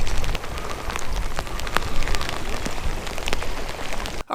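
Steady rain falls outdoors at a bank fishing spot, pattering densely on surfaces with scattered louder drops, continuous and fairly close until an abrupt cutoff at the end.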